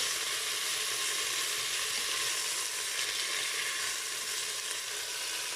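Veal paupiettes browning in a Cookeo multicooker make a continuous, dense sizzling hiss, close and even throughout with no talking.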